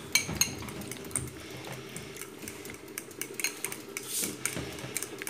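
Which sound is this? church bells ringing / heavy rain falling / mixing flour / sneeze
mixing flour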